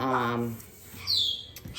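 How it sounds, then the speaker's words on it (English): Birds chirping outdoors in the morning: a short, bright tweet rises clearly over a background of a voice and room noise, brief and moderately near. "The birds are going crazy this morning"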